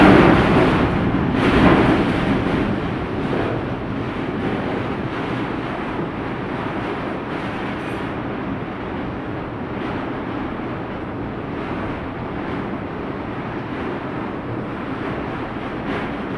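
Strong wind during Typhoon Ulysses roars continuously into the microphone as a loud, rushing buffet that is heaviest at the start and then stays steady throughout.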